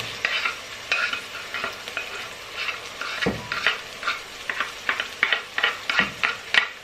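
Onion frying in a pan, quiet close sizzling with frequent stirring scrapes and light clicks of a utensil against the pan.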